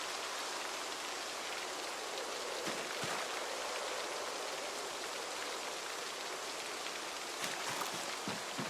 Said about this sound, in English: looks like the rain is still coming, but at least the storm is not reared its ugly head quite yet